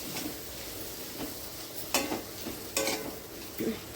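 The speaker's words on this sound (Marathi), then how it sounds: "आपल्याला सगळ्या भाज्या घालायच्या आहेत. ते मिक्स करून घ्यायचं आहे 2 मिनटं" Mixed vegetables for bhogi bhaji are stirred in a pan over a low, continuous sizzle. A few louder spoon scrapes come at intervals, close by, with no voices.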